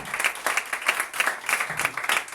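A church congregation applauds during a worship service, steady close clapping in rhythmic pulses that carries on throughout without pause.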